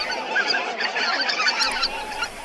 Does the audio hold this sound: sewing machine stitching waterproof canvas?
no